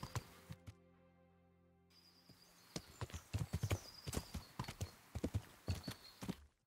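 Hooves of a galloping horse clop steadily on a road in the medieval game Kingdom Come Deliverance, fairly faint and rhythmic. A short whinny and a tonal game sound come just before the hoofbeats start, with no talk over them.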